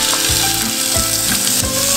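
Shrimp and garlic sizzling in a little hot oil in a pan, giving a loud, steady frying hiss with faint stirring scrapes throughout.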